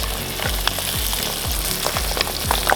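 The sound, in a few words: trout frying in olive oil on outdoor stove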